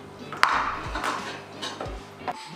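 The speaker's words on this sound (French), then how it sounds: "Pendant ce temps-là, on va casser des œufs." Eggs are cracked with a knife against the rim of a plastic bowl, giving a few sharp taps and clinks with soft wet shell sounds in between, close by and moderately loud.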